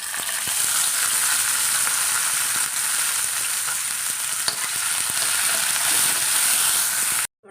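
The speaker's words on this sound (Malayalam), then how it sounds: "ഈ മുന്തിരി ഒന്ന് വറുത്തെടുക്കാം" Steady, loud sizzling of raisins frying in hot ghee, a continuous crackling hiss with small pops throughout, ending abruptly.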